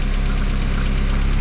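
An Astra CDX estate's engine idles with its exhaust not yet connected at the back, a loud, steady, rough low drone with a faint knocking pulse, close up and continuous.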